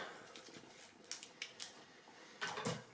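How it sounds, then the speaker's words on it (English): Several quick, crisp snips of scissors cutting through a soft Ficus benjamina stem during pruning, close by and fairly quiet, with brief pauses between cuts. "I'll use my scissors because my secateur is a bit blunt for this"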